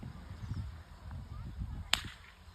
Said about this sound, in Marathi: पक्ष्यांना चापकन हे करते बघा आवाज येईन आता